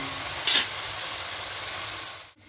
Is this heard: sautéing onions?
yes